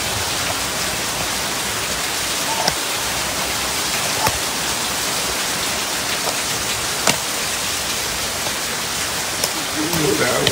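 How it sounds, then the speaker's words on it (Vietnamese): Heavy rain falls in a loud, even roar of dense drops, close and constant, with a few sharper drip hits scattered through it. "Trận mưa không thể nào chê được luôn."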